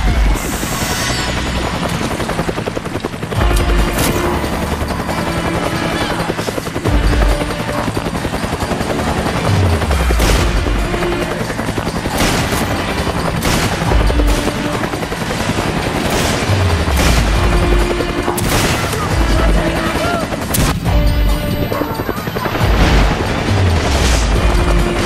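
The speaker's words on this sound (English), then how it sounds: "hear gunfire" Dense bursts of video game gunfire and booms in Resident Evil 5 over a constant loud roar, continuous and chaotic for the whole stretch, with no clear voices.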